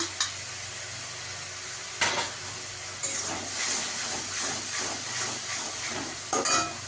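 Ginger-garlic and green chilli paste sizzles steadily in a pan while cooking a fish curry, a continuous bright hiss with a few louder scraping stirs, close and without talk.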